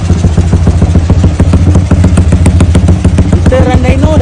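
A motorcycle engine fitted with an Uma carburetor running steadily, loud and close, with a strong throbbing pulse and prominent rushing intake air noise.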